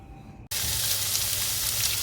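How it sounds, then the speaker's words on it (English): Fat rendering down in a hot pan for an Indonesian stew sizzles loudly and steadily after a brief pause, a close, dense frying hiss with no talking. "what we're doing here is we're going to render down all the fat"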